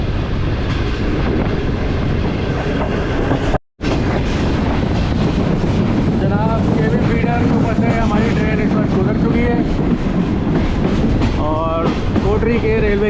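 The 41 Up Karakoram Express rumbles steadily into the Kotri railway yard, a loud continuous rolling clatter with a brief dropout, while a voice talks over it and squealing tones rise near the end.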